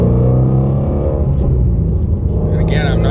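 A 2020 Ford Mustang GT350R V8 rumbles and revs as the driver rev-matches through the gears, a loud, close, deep engine note with a quick blip near the end.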